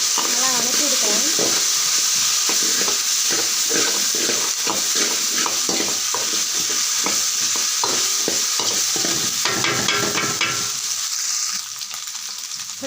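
Pasta sauce with pepper is sautéed in a pan, giving a loud, continuous sizzle broken by frequent scraping and clattering stirring strokes, close up, with no talk.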